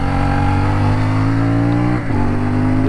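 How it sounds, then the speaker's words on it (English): A CFMOTO 450MT adventure motorcycle on a hard off-road trail, its engine droning loud and close at steady revs, then briefly dipping around a quick shift before pulling on again. "Just short shifting because I'm running it in. Very revvy motor."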